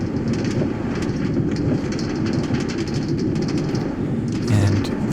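A minecart rolls along rails in the Minecraft video game, making a steady, loud rattling rumble that carries on without a break and has no talking over it.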